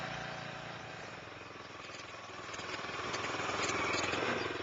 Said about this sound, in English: Slowly draw the recoil starter handle until it stops. Then pull it to start the engine.